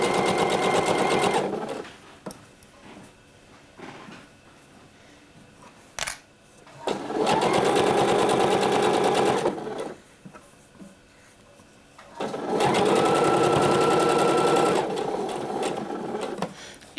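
Sewing machine stitching a sleeve seam on a fitted undershirt runs in three bursts of whirring, separated by quiet pauses with faint handling sounds and a sharp click between runs.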